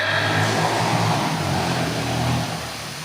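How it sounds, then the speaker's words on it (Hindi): A vehicle's exhaust silencer roars loudly near an outdoor Hindi poetry gathering, a steady throaty engine drone that eases slightly at the end. "भगवान जाने कि ये साइलेंसर बज रहा है।"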